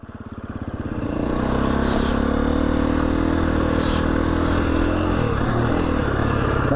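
Motorcycle engine on a wheelie attempt, rising quickly from idle to a loud sustained high-rev roar that wavers slightly, close and with no one speaking.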